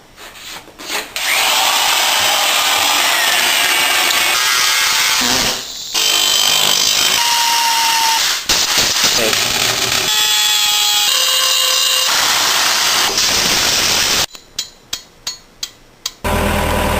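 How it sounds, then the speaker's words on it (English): Loud power-tool whine from a half-inch Milwaukee right angle drill boring into wood in a workshop, running in long sustained bursts with brief pauses, then a string of sharp rhythmic knocks near the end. "There's nothing like the old favorite"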